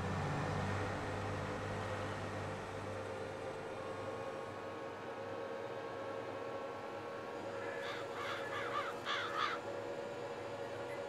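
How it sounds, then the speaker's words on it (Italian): Birds caw a few times in the Farming Simulator 22 game world, a quick cluster of harsh calls late on, heard over a constant low rumbling hum of farm ambience. "I vostri uccelli fanno un casino."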